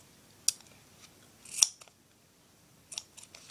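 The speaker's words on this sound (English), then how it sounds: "Now here's when you use your scissors." Scissors snip duct tape while a pouch is crafted: three short, crisp cuts spaced about a second apart, close and fairly quiet, with no talking.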